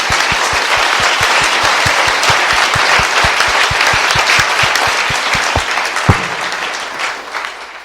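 A church congregation applauds loudly and steadily at a leadership conference, the dense clapping holding for about eight seconds with a few sharper individual claps standing out near the end.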